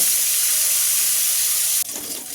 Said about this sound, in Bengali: কড়া করে ভেজে নিচ্ছি, মাছগুলোকে নিয়ে তুলে নিচ্ছি